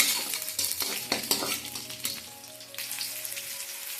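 Red amaranth leaves hit hot oil in a pan with a sudden crackling sizzle, followed by busy clinking stirring strokes that ease into a steadier frying hiss.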